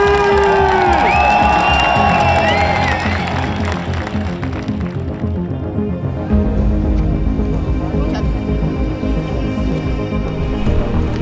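A loud crowd cheers and shouts at the mass start of the O'BIVWAK 2026 long-format race, a dense, continuous roar with whistles and voices that stays strong throughout.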